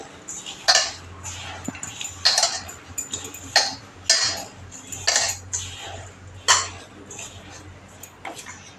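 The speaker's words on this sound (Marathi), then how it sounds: "आणि आता आपण हे सगळं मिश्रण चांगलं चाळवून घेऊया" Rice flour dough mixed with coconut and sesame is worked in a metal vessel, producing a steady rhythm of scraping clinks roughly every second under a low background hum.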